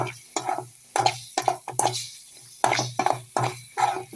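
A spoon stirs meal maker chunks coated in masala in a pan over low heat, giving repeated scraping, clattering strokes in a steady rhythm with a soft sizzle underneath.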